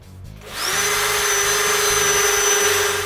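A power drill bores a hole for a wooden dowel that will hold clamp-rack frames together. It spins up after a half-second pause, then holds a loud, steady whine close by with no talking.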